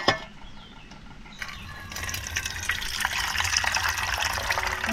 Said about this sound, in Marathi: हे डाळीतलं पाणी आहे ना सगळं आपल्याला हे काढून टाकायचं आहे